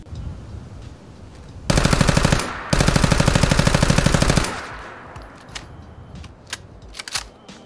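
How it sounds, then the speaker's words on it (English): Automatic bursts from a 10mm submachine gun carried over from Fallout 76 into Fallout 4, two loud rapid strings of shots with a short gap between, then fading echoes and scattered small clicks. "This mod will add the 10mm submachine gun from Fallout 76 to Fallout 4."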